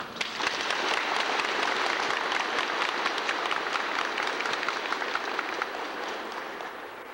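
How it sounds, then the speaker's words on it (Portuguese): Sustained audience applause fills a hall at the 1987 inauguration of a coffee cooperative unit in Claraval, Minas Gerais, dense and steady throughout before tapering slightly near the end. "eu peço uma salva de palmas"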